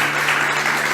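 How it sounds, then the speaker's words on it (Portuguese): A church congregation applauds in a dense, steady wash of clapping that fills the whole short moment without a break. "aplauda o Senhor porque Ele merece"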